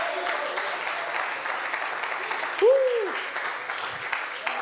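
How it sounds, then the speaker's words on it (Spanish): Church congregation applause rolls on as a continuous wash of clapping through a worship service, with a brief tonal shout or cheer rising above it midway. "Dele ese aplauso al Señor el día de hoy."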